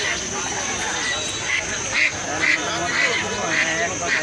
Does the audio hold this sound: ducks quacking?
yes